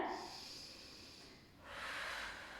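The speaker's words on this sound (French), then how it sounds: "Je souffle quand je vais en arrière et j'inspire quand je vais en avant." Slow, soft breaths during a seated pelvic mobility exercise on a chair: a long airy exhale followed by a breathy inhale, close and quiet, with no talking.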